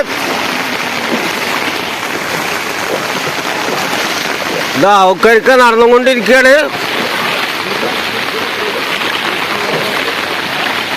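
Floodwater rushing steadily in the Kakkidikkal area as river levels rise in a second surge, a loud continuous broadband roar throughout, with someone talking briefly over it midway.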